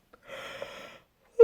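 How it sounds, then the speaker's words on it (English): A person's drawn-out, breathy yawn lasts under a second in quiet surroundings, followed by a brief sharp sound at the end. "I'm going to yawn again."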